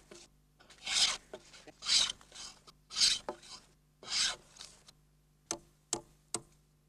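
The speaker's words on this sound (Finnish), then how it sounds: "Pienet epätasaisuudet poistetaan viimeistelyssä härkähöylällä." A jack plane smoothing small unevenness off wooden floor boards in a Finnish log house, four steady rasping strokes at close range followed by a few sharp wooden knocks.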